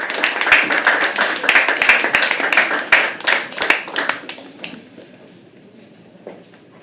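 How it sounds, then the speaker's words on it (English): Audience clapping at a live poetry open mic at The Habitat, a lively burst of many hands that thins out and fades to scattered claps near the end, with no one talking. "keep clapping for Sharp Dagar."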